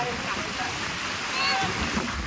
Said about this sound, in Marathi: तुम्ही लाटा बघू शकता. या लाटा आहेत.